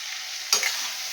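Spice masala for a fish curry being stirred and sautéed in a pan, with a steady close sizzle and a sharp scrape of the spoon halfway through.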